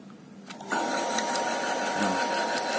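An electric water pump, just fitted with a new seal and primed with a little water, kicks on about a second in and keeps running with a steady, buzzing whine up close.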